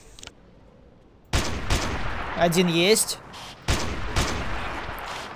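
Rapid bursts of FN FAL rifle gunfire in the video game Carnivores Triassic, loud and close, in two runs of several shots each, with someone speaking briefly over them.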